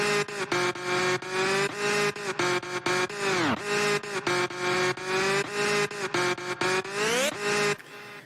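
Mario Kart 8 kart engine chopped into rapid rhythmic stutters with pitch automation, a buzzy tonal whine cut into quick repeating slices, with two swooping pitch dives and a final rising sweep before a sudden stop, heard alone.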